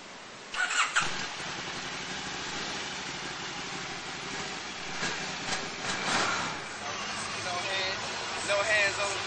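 A Can-Am motorcycle starting up, a short cranking burst catching into a steady idle with a few throttle blips, recorded up close while people talk over it.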